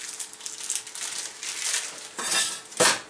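A bowl being handled while preparing a sealed bag for a warm-water soak, giving a few close dish-and-crinkle clatters, with a louder knock near the end and no talk.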